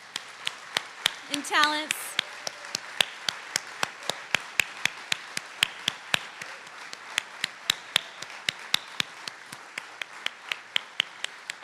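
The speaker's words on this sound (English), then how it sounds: "if you will stand with me and give him a round of applause for that" Sparse, evenly spaced claps from a memorial audience tapping out over about eleven seconds, crisp and close, with a brief spoken phrase early on.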